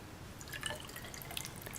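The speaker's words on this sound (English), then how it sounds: "When I pour it into the more accurate small cylinder" Liquid poured into a small graduated cylinder in a density lab makes faint, quiet trickling with a few small drips and splashes over a low background hum.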